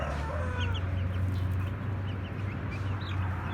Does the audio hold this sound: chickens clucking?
yes